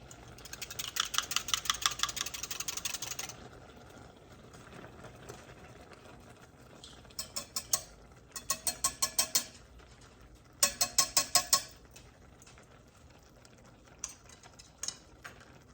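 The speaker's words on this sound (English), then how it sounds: "combine the milk and the flour and whisk until smooth" Milk and flour whisked together in a cup until smooth, producing rapid rhythmic clinking of the whisk against the sides in several close bursts with short pauses between.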